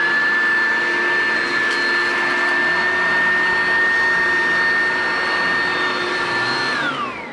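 An Oreck vacuum cleaner runs with a steady, loud motor whine and airy rush close by, holding a constant pitch before winding down as it is switched off near the end.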